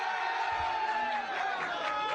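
A large crowd cheering and roaring, dense and continuous, with whoops and shouts rising out of the din and no break for the full couple of seconds.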